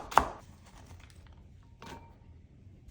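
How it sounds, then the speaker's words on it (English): Knife chopping celery stalks on a cutting board: one sharp, close chop at the start, a few faint taps after it, then a softer knock near the end, with quiet pauses in between. "Next, we'll chop up about 3 to 4 stalks of celery."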